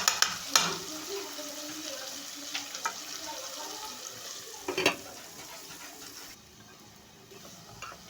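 Onion and carrot slices fry in a pot, a soft sizzle with a few sharp stirring clinks and scrapes near the start and middle, fairly quiet and close, fading lower near the end.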